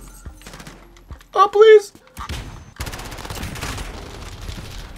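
Shotgun blasts in a 3v3 video game gunfight, a few sharp bursts scattered among game noise with a player talking excitedly over them.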